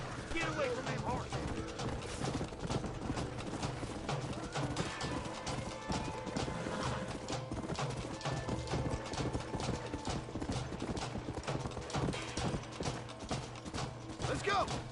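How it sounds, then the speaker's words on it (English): Horse hooves clip-clop in a steady, dense rhythm in the Red Dead Redemption video game, loud and close, with creaking tack, an occasional whinny and a game character talking over them. "Get away from them horses."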